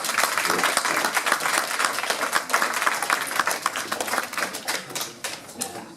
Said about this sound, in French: Et donc sur vos applaudissements